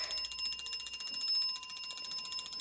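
A fire alarm bell in a building rings steadily throughout a test, a continuous bright metallic clangor at even loudness with no voices.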